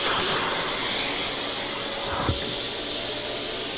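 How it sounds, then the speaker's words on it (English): A Festool shop vacuum with a CT Wings extra hand attachment runs loud and close with a steady airy roar and hiss, broken by a single soft thump partway through. "All right, so now I'll turn the vacuum on."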